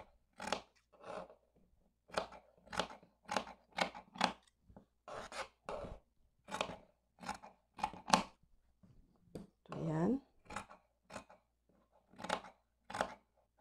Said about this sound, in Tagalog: So, gupitin natin yan.